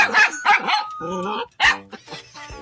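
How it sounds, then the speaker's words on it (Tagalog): A dog barks several times in quick, close, loud bursts, with yelping and whining tones between the barks. "Sarili niya, tinatahol niya."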